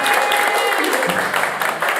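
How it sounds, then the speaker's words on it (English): Audience applause at a live bluegrass-style radio show broadcast, a steady dense wash of clapping from a studio crowd lasting the full two seconds, fairly loud and continuous. "how about one more round of applause"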